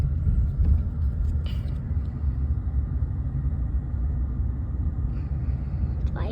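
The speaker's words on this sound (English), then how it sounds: "We're driving right now" A car driving along a road in Hagerstown, Indiana, heard from inside as a constant low engine and tyre rumble with road noise, steady and close, no talking.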